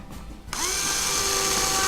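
A power drill starts up and drives screws into a QuadLugs Modified H 540 frame, its motor whine rising abruptly to a steady loud drone after a brief quiet moment, close and alone.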